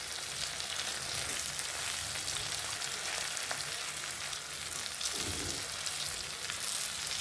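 Sliced onions dropped into hot oil for a vegetable and potato fry, a quiet, continuous sizzle with a brief stirring scrape partway through.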